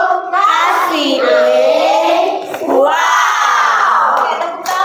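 A school class cheering for group 1 after its presentation, children's voices shouting together in a loud, rising and falling chant with no clear clapping.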